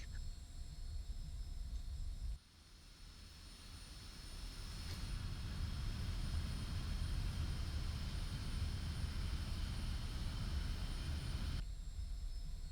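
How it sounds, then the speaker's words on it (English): A MiG-21 jet struggling down a runway in a game, its engine a steady roaring rush that cuts in abruptly, swells and holds loud and close, then drops away near the end. "MiG-21 barely takes off for me"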